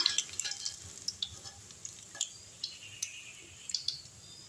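Snake gourd bajji frying in oil in a wide kadai, faint crackling pops and ticks scattered irregularly over a quiet hiss.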